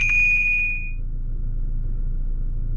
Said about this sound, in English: Another notification,